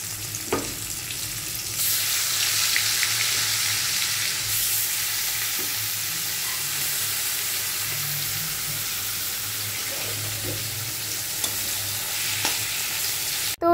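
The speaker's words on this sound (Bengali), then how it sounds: "মাছটা আমি এখন ভাজবো।" Fish coated in salt and turmeric fries in an iron wok with a loud continuous sizzle that jumps up as it starts, with occasional clinks of stirring and no talking.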